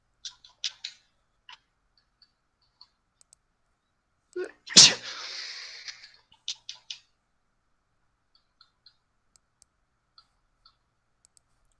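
A single loud, close human sneeze bursts out midway through an otherwise quiet stretch, with scattered faint clicks of a computer mouse and keyboard before and after it.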